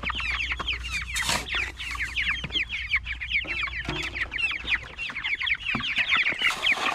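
A crowd of meat chickens clucks and chatters continuously and close, busy overlapping calls with occasional knocks and rustles.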